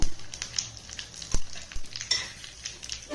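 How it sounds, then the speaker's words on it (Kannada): Dry red chillies sizzle in hot tempering oil alongside mustard seeds and curry leaves, a close hiss broken by crackles and a few scraping, clinking stirs of a utensil against the pan. "ಒಂದೆರಡು ಒಣಮೆಣಸಿನ್ಕಾಯಿ ಹಾಕ್ತೀನಿ"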